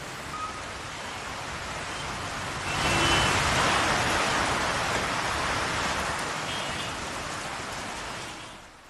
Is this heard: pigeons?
no